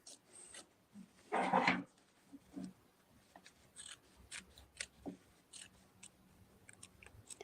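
Scissors snip through quilt fabric close to embroidery stitching, one dense burst of cutting followed by softer, scattered snips and handling noises, close and quiet with no talk.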